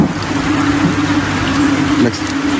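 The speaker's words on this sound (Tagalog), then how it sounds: "Nagsimula yung ulan kanina" Steady rainfall patters continuously on surfaces nearby in rural Palawan, a dense hiss with a faint low hum underneath and no talking.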